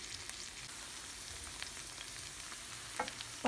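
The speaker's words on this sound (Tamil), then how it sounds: "மீடியம் ஃப்ளேமில் வச்சுட்டு இதை நல்லா வணக்கி விட்டுக்கோங்க" Ivy gourd (tindora) sautéing in a pan over a medium flame gives a steady, close sizzle and frying crackle, with a few sharper stirring scrapes near the end.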